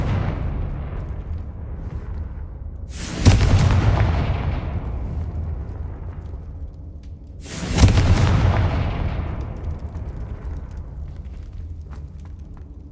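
Two heavy magical explosions from the Confringo spell in the video game Hogwarts Legacy, each a sudden loud boom with a long rumbling decay, spaced about four seconds apart over a low ambient bed.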